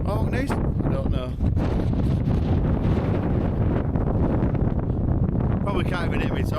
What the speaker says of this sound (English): Probably can't even hear me talking, it's that bad. But we made it. It's a bit windy.